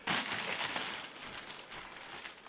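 Close, loud rustling and crinkling as a plastic bag and polystyrene packing around an AeroCool Mechatron PC case are handled, a steady crackle that eases slightly toward the end.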